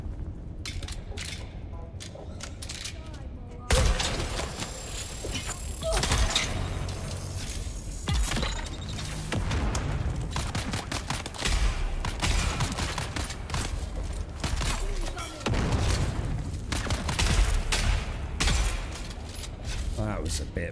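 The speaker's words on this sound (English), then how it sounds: "I've got Goober shooting at me" Gunfire from the video game Dune: Awakening crackles in repeated sharp bursts and rapid volleys, with glassy clinks and impacts mixed in, loud and sustained, while someone talks over much of it.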